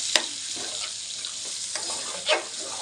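Mango pieces stirred into chicken curry in a pan give a steady broadband sizzle, broken by a few sharp scraping strokes from the spoon, close by and moderately loud, with no voices.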